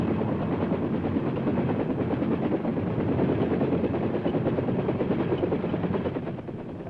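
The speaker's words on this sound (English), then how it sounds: "the chopper is moved to a different part of the field" A military helicopter on the flight line gives a loud, close, steady rotor and engine roar that holds constant throughout and eases slightly at the very end.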